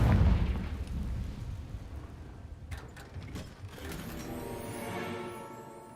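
A Confringo fire spell explodes in Hogwarts Legacy with a loud, deep boom at the start that rumbles and fades into a sustained mechanical, ratcheting texture with crackling bursts later on.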